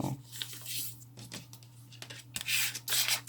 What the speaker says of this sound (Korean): 이 상태로 세모를 접어주세요